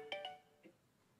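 Telephone ringtone as a call connects during a church service, a short burst of bright electronic beeps with a few tones, then a faint blip before quiet.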